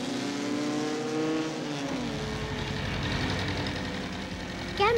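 A car passes by, its engine note rising and then fading, fairly loud and heard alone without talk.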